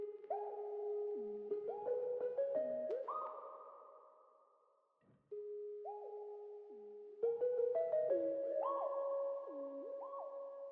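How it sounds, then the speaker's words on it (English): A simple plugin bell plays a sparse counter melody of short, clear tones with gently varied loudness and a soft echoing tail, pausing briefly midway before resuming, with no voices. "I have this recap plugin, which is basically just a simple bell."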